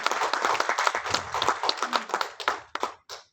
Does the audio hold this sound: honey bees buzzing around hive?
no